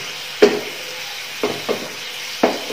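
Meat with black pepper stirred in a hot pan, a low steady sizzle broken by four soft scraping knocks of the spoon against the pan.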